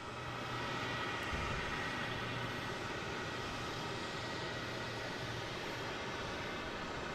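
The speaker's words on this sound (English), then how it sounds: "Thought I heard a prop plane taking off." A Cessna 402 prop plane takes off at Boston Logan airport, its engine drone steady and fairly loud, with a low throbbing hum that comes and goes over several seconds; no one speaks.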